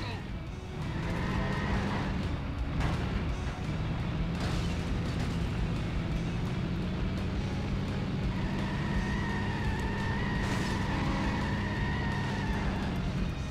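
A racing car engine from The Simpsons Hit & Run video game drones steadily throughout, with shifting pitch and occasional mechanical bursts, while voices talk over it.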